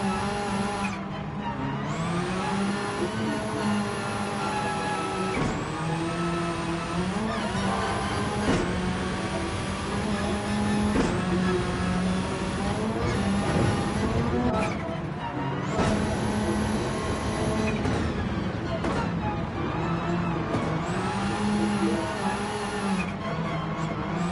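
A rally race car driven on track, its engine revving loud and close with repeated rising pitches broken by sudden drops at each gear change, plus brief lifts off the throttle, continuing for the whole stretch.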